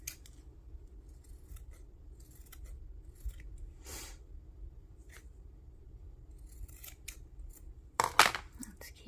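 Scissors snip through layered paper sack, with faint scattered rustling and then a loud burst of close cutting near the end in an otherwise quiet room.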